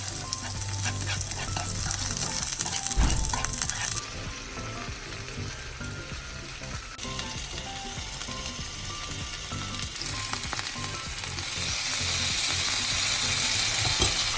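Chopped garlic and wild chive roots sauté in oil in a heated pan, with a loud, continuous sizzle and crackle broken by scraping stirs and clinks of a utensil against the pan.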